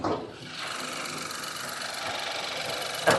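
A 2022 Honda City 1.0 turbo engine idling with the hood open, a steady close mechanical hum and whir with a light ticking texture, briefly louder at the start and with a sharp clatter at the very end.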